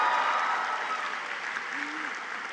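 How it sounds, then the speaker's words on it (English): The Pine View School graduating class of 2026 applauds itself at commencement, a steady wash of clapping from many hands with a brief voice rising faintly through it. "Give yourselves a round of applause."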